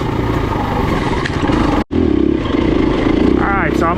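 A 2024 KTM 350 enduro motorcycle with a new engine drones steadily and loudly while being ridden, with one brief dropout midway before the engine note resumes.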